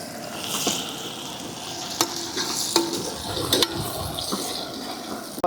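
Curry leaves and whole peeled garlic frying in oil for a village-style Tamil fish curry, a steady sizzle with a few sharp crackles and stirring clinks, close and alone without speech.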